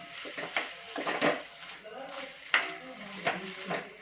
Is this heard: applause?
no